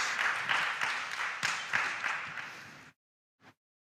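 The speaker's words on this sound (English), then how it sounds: "Please give him a round of applause." A school quiz audience applauds a contestant, brisk dense clapping for about three seconds that cuts off abruptly, followed by one brief isolated sound.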